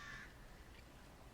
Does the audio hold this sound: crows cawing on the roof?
yes